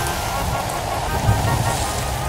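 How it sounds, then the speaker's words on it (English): Acid rain falls in a Roblox natural disasters game, a steady hiss of rain noise mixed with game music that holds at an even level from start to finish, with no voices. "I told it's gonna be acid rain."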